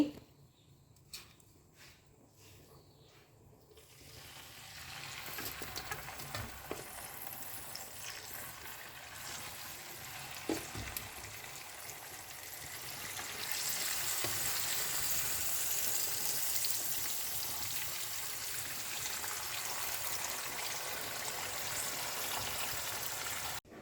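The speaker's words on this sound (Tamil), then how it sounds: "இந்த மீனை நம்ம பொரிச்சிக்கலாம். இப்படி எண்ணெய் சூடாயிடுச்சு." Fish frying in hot oil in an Indian home kitchen while fish curry is made: quiet clicks and handling at first, then a steady, close hiss and sizzle that swells after a few seconds and stays loud and even to the end.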